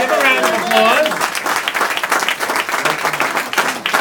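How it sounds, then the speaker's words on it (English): Applause breaks out at a political gathering, a crowd clapping loudly at first and then more raggedly as it thins, with a voice talking over it near the start. "Give a round of applause."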